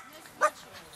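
At an outdoor animal rescue and blessing event, a dog gives a single short, sharp bark that stands out briefly over quiet background.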